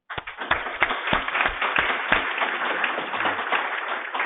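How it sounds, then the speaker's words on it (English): Audience applause for the speakers at a food classification workshop, with sharp individual claps at first that quickly build into a steady round of clapping from a modest crowd. "I want to hear a round of applause for all of the speakers"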